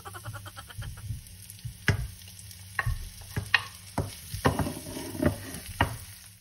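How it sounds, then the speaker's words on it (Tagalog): Garlic and onion sautéing in a pan for sardine stew, with soft frying crackle broken by repeated sharp scrapes and clinks of a spatula stirring against the pan, close and fairly quiet. "pragisa muna tayo ng bawang sibuyas"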